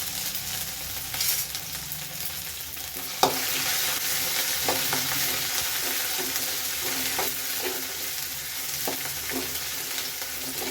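Crushed cumin, ginger and garlic fry in hot oil for an aubergine chutney, producing a close, steady sizzle marked by repeated spatula scrapes and stirring clatters, with one sharp knock near the start.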